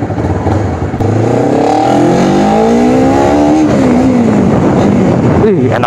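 A loud, close motorcycle with a 3 Tech aftermarket exhaust revs up with a rising, whining pitch, holds, then drops back and revs again in a burst near the end.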